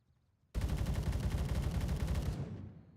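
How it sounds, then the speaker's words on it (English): A full-auto .308 rifle, an AK-style 308, rattles off one continuous close, loud burst lasting nearly two seconds, then stops abruptly as the echo fades out. "full auto 308."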